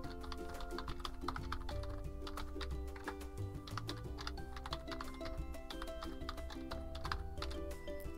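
Fingers type a password on a computer keyboard while installing the Mailpile email client, a quick irregular run of light clicking keystrokes close to the mic over steady background music, with no speech.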